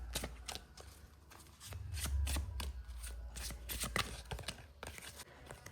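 Tarot cards being shuffled by hand in a series of quick riffling, flicking bursts, close and fairly quiet, with no voices.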